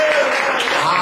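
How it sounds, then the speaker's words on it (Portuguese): Church congregation clapping loudly for the name of Jesus during a service, a brief burst of thick, steady applause with voices mingled in. "Vamos aplaudir bem forte o nome de Jesus"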